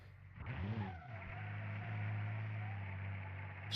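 In the BeamNG.drive racing game, a Porsche race car skids out of control, tires squealing with wavering pitch over a steady engine drone, followed by continuous roaring engine noise.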